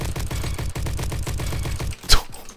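An assault rifle, an AK or STG, fires from the hip in a video game, a rapid, loud, rhythmic burst of automatic shots lasting about two seconds, ending with a single sharp clack.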